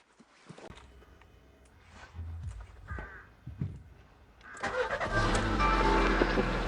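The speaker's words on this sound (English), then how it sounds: "you can start the car right after inspection." Car engine starting after a routine daily maintenance check: quiet clicks and handling sounds first, then the engine catches and settles into a loud, steady idle for the last couple of seconds.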